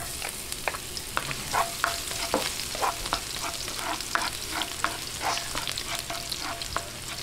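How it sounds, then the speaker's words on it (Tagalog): Aromatics sizzle as they are sautéed in a pan for Marinduque-style kare-kare, a steady frying hiss broken by regular scraping strokes of a spatula stirring, close and moderately loud with no talking. "Ngayon, umpisahan na po natin yung paggigisa."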